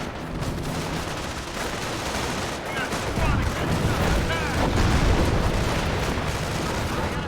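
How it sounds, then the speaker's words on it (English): Game artillery barrage in Company of Heroes: a continuous roll of heavy gunfire and explosions, loud and dense, with booms thickening in the second half, with game voices mixed in. "Calling artillery on this position."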